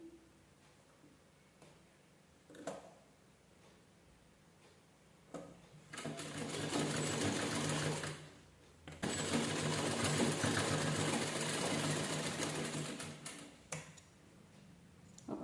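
A sewing machine stitches around the rim of a handmade fabric key holder, running in two long, steady, close whirring bursts separated by short pauses and quiet handling.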